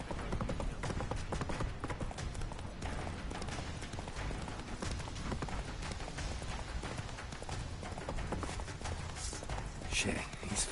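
Roach, the horse in The Witcher 3 video game, gallops with steady clip-clop hoofbeats running continuously under a dense mix of game sounds and occasional voices.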